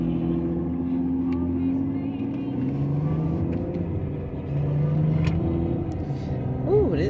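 BMW X6 on the road, a steady, loud engine drone and tyre rumble from inside the cabin that swells slightly midway, continuous throughout.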